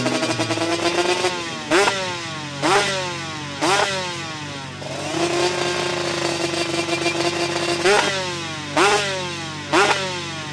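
An Aprilia RS 250 two-stroke V-twin motorcycle revs in a series of sharp, raspy blips over a buzzing, crackling idle, loud and close.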